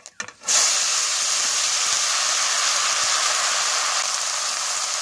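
Cleaned, cut water lily stems go into hot oil tempered with black cumin and dried red chilli, setting off a sudden loud, steady hiss that holds evenly after a brief clatter at the start.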